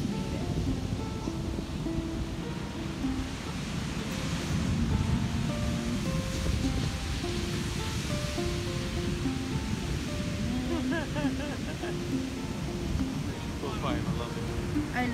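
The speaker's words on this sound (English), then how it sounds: "So we are now on the beach." Ocean waves breaking on a Hawaii beach, a continuous rushing surf wash with wind buffeting the microphone, while people talk over it throughout.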